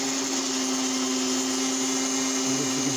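A rotary tool fitted with a small buffing wheel polishes a carved rock, giving a steady, high whine that runs unbroken and close.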